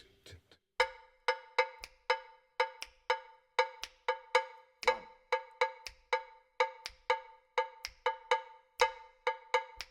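A bright metallic bell struck in a repeating syncopated Kabila Angola-nation pattern, sharp clanging strokes with short gaps and doubled hits, loud and close with no voices.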